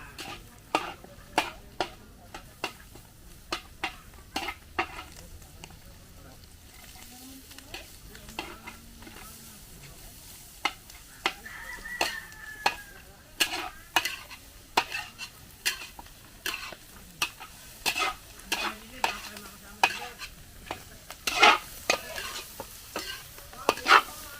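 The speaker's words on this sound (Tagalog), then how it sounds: "Gisan nyo yung dinugaan eh." Dinuguan, a pork blood stew, being sautéed and stirred in a pan at a countryside fiesta: steady sizzling under repeated sharp scrapes and clinks of a utensil against the pan, with occasional faint voices.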